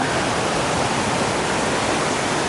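A waterfall in Attapadi pours down large rocks, making a loud, dense and constant roar of rushing water that fills the whole clip evenly with no pauses or voices.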